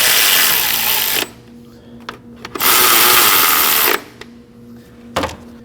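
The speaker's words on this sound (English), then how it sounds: "Now we can go ahead and get these 3 10mm bolts snug." A power driver spins three 10mm bolts snug while an oil pressure switch is replaced on a 2011-2016 Kia Optima, with three loud, close whirring bursts of about a second each separated by quieter pauses.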